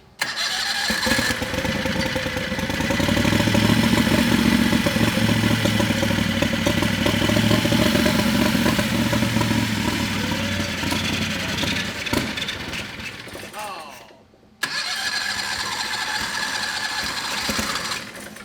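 A turbocharged methanol-fuelled 670cc V-twin engine runs loud and close with a steady, throbbing roar, cuts out abruptly for a moment near the end, then fires back up.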